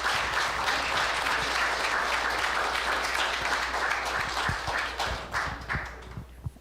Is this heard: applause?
yes